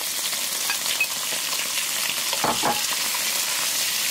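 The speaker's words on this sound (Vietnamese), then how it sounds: "Đợi dầu nóng thì mình cho 1 phần hành tỏi băm vào phi thơm. Sau đó thì mình cho tôm vào." Shrimp with minced garlic and shallots frying in hot oil in a deep pan, a steady close sizzle throughout with a brief louder stir or splash midway, no talk.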